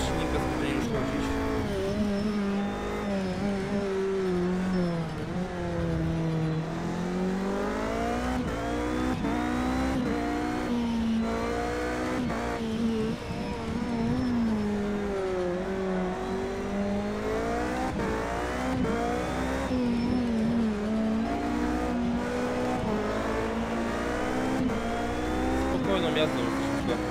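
A racing car engine in the Project Cars 2 video game revs high and loud without a break, its pitch climbing and sagging repeatedly as the car accelerates and shifts, with occasional tire noise.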